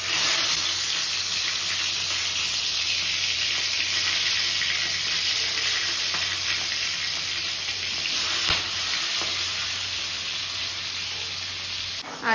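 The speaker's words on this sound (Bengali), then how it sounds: "আর এই যে চিংড়ি মাছগুলো এবার এক এক করে ভেজে নেব।" Prawns frying one by one in hot oil in a kadai: a continuous, fairly loud hiss and sizzle that holds steady throughout, with no one speaking.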